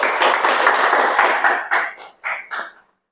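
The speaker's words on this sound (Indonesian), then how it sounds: "Tepuk tangan untuk Zara." A roomful of people at a university teaching-certification session applauds, a full burst of clapping that thins out after a couple of seconds into a few last separate claps before silence.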